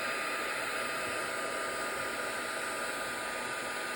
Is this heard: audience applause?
no